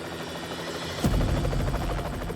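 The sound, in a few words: helicopter flying overhead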